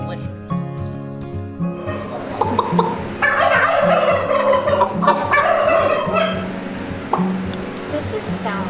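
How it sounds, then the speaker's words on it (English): Turkey hens at an animal sanctuary gobble close by in repeated rattling bursts, with people talking over and between the calls. "She is one of our most social turkey hens"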